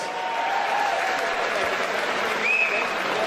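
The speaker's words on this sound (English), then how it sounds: "a massive round of applause for both these guys," A crowd at an MMA event applauds the fighters after the bout, a dense, sustained wash of clapping with crowd noise. It holds steady and moderately loud, and brief whistles rise above it.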